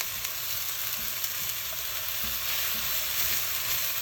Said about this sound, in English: There's not a lot of oil in there, but you just want to get a little bit of browning on the garlic and the ginger